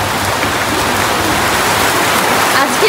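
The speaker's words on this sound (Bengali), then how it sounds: "বাইরে বৃষ্টি হচ্ছে" Rain falls outside a showroom as a dense, steady hiss that stays loud and even throughout, with no other sound standing out.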